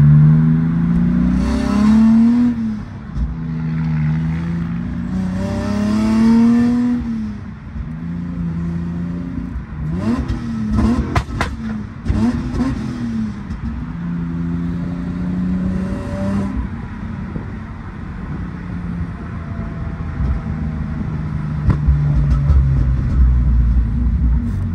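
A tuned, naturally aspirated Toyota 2JZ-GE engine with a new intake manifold, Bosch 82mm drive-by-wire throttle body and standalone tuning, heard from a car being driven: loud, close, with repeated rising revs through the gears and a steady throaty drone.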